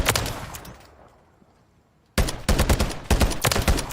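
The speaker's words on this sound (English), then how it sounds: "I used it in fully auto mode and I used it in just single shot mode" Taq V rifle in Modern Warfare 3: a burst of gunfire, then near silence while the echo fades, then rapid full-auto fire, loud and close, with several bursts running back to back.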